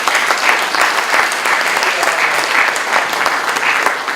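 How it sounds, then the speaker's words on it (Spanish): A large audience claps steadily and loudly throughout, a dense, even wash of applause from a full hall after an interpreted lecture. "Un gran aplauso a señor Klaus, que nos ayuda en la interpretación."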